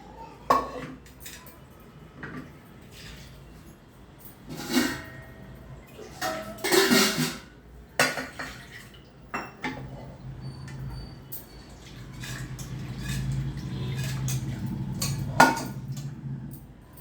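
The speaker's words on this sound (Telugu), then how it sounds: "ఇట్లా శుభ్రంగా కడుక్కుందాం" Tender tamarind leaves are washed for dal in a metal vessel, with scattered close clinks and knocks of the pot and a softer, continuous swish of handling toward the end.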